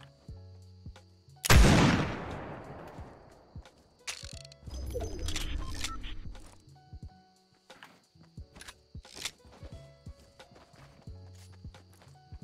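A single loud, close scoped revolver shot in Fortnite is followed by a long decaying echo, then a burst of game noise and scattered light clicks and footsteps.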